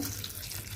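Tap water pours steadily into a sink, a brief continuous splashing stream.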